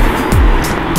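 A single car passing on a street, a broad rushing swell that rises and fades within a second, fairly near and loud, with no talk over it.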